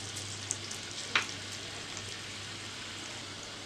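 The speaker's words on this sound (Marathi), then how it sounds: "आता याला तडका देऊया। तेल एकदम गरम तापवलेलं आहे।" Urad dal sizzles in very hot oil for a tempering, a steady broadband frying hiss close by with a couple of brief sharp pops early on, no voices.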